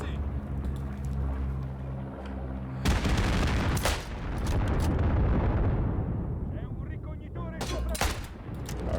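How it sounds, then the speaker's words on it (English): Gunfire from soldiers on a ridgeline in Isonzo, a World War 1 mountain warfare video game: loud bursts of rifle shots and booming blasts over a low drone, with a fresh volley near the end. "There are some people up on the ridgeline shooting down on our forces"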